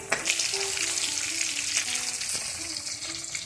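Food fries in hot oil with a constant, dense sizzle and bubbling, close and steady throughout, with no talking.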